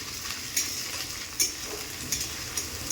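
Chicken sizzles in a pan with a constant frying hiss, while a utensil scrapes and clacks against the pan at intervals as it is stirred, with no voices.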